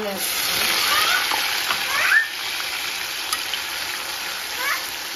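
Green chillies and onion hitting hot oil in a pan while cooking prawn gravy, giving a steady, loud, broad sizzle with a few brief spits, while someone talks over it.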